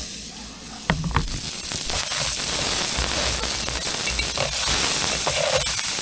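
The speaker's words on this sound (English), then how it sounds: "Got a little butter there. Gonna get some eggs going." Eggs frying in butter on a camp stove give a steady, close sizzle and hiss, with a few small clicks and pops early on and no talking.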